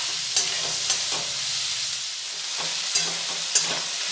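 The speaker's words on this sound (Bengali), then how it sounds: "নাড়াচাড়া করে মিশিয়ে নিলাম।" A spatula scrapes and clacks against a pan in irregular strokes as cleaned chicken pieces are stirred for a chicken curry, over a soft, steady sizzle close by.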